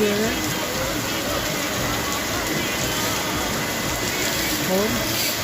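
Heavy rain pours down in Hyderabad as a dense, unbroken hiss that stays loud and steady throughout, with faint voices only just audible beneath it.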